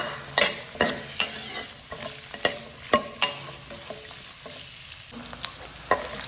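Ginger, garlic, onion, cashews and dried red chillies stir-fried in hot oil in a pan for dum aloo gravy, a constant sizzle broken by repeated sharp spatula scrapes and taps, close and steady, no speech.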